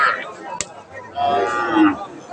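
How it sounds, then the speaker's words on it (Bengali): A young cow moos at a cattle market, one drawn-out low call up close, with market noise and voices around it. "এটা একটা জোয়ান গরু"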